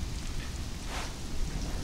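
Steady rain hisses in the game Conan Exiles, a dense even patter with a low rumble underneath and no voices over it.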